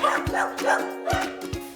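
Dogs at a rescue shelter for abused and abandoned animals bark in a short burst of four sharp, close barks, with no one talking.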